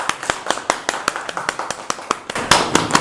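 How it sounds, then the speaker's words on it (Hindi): Brisk applause for a six-year-old boy after his cataract surgery and lens implant at an eye clinic: sharp, separate claps from a few nearby people, steady at first and thickening into a denser burst near the end, with no talking. "जोरदार तालियां"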